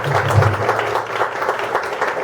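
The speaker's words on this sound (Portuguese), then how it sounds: "Salve de palmas aí pro Pedrão aí." Applause from a small audience at an acoustic music session in Brazil, a steady patter of hands with some low background rumble under it, moderately loud and close throughout.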